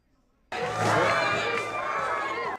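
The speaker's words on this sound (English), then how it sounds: "This crowd arrived ready to cheer, and they found things to cheer about the entire time" A large crowd at a Bernie Sanders rally bursts into loud cheering and shouting that starts abruptly, swells, and holds for about two seconds before cutting off.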